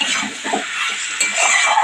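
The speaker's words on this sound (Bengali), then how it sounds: "একটুখানি নেড়ে চেড়ে নিচ্ছি" Marinated meat being stirred in a pan, with a spatula scraping and clattering against the metal over a soft sizzle, continuous and fairly close for a short stretch.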